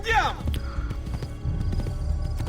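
In Assassin's Creed II a horse gives a loud, descending whinny right at the start, followed by a steady patter of hooves clip-clopping along under ongoing game ambience.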